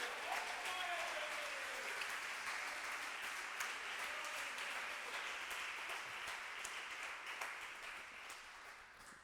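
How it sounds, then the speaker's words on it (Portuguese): A church congregation gives sustained applause during a Sunday service, a dense wash of many hands clapping that fades gradually over about nine seconds. "Dê uma salva de palmas a Jesus por isso."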